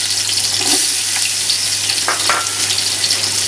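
Onions frying in desi ghee for a baghar tempering with large and green cardamoms, a close, steady sizzle with a few brief splashy crackles.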